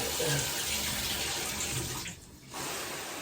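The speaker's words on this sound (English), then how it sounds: "because that's where I got to turn on the water." Water gushes steadily from a tap at close range, briefly dipping quieter before resuming its full rushing flow, as an alocasia plant is watered.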